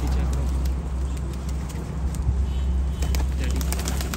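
Teddy pigeons in a breeder's loft coo in low, repeated murmurs, close and continuous over light background noise.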